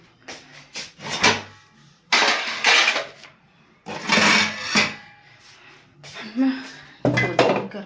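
Metal utensils clank and scrape in bursts as dishes are scrubbed nearby, with brief pauses between the clattering strokes.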